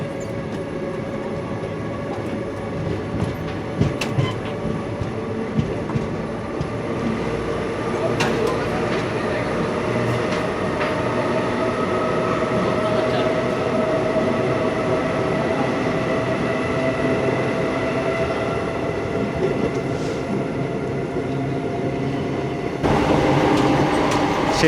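Inside an ICF three-tier coach of the Hyderabad–Kollam special, halted at Tirupati West station, a steady rumble and hum fill the carriage with occasional metallic clanks, a faint squeal and a louder shift near the end.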